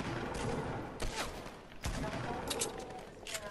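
Rapid bursts of video game gunfire crack in quick clusters, with several sharp shots, fast volleys and a few pauses between them. Excited voices talk over the shooting.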